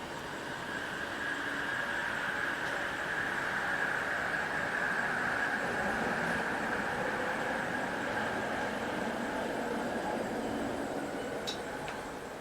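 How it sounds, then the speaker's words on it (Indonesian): An LRT train pulls into a Kuala Lumpur station on the line from Pasar Seni toward KLCC, a steady rumble with a sustained high squeal and a few sharp metallic ticks near the end. "Oke, LRT-nya udah mau sampai."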